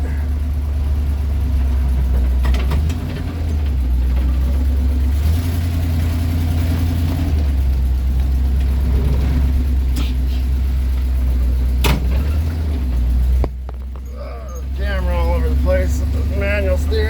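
An International Travelall truck driving without power steering runs at a steady mid-pitched engine drone with slight rises and dips as it turns around, then drops to a quieter idle near the end, with someone talking over it.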